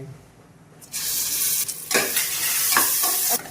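A loud, steady sizzle of ginger garlic paste frying in hot coconut oil begins suddenly, with brief stirring scrapes rising through the hiss.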